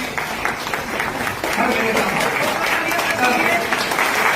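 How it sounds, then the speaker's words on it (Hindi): A seated audience at a community gathering breaks into loud applause, a dense wash of clapping that swells and holds steady, with voices mixed in. "बहुत ही जोरदार तालियां"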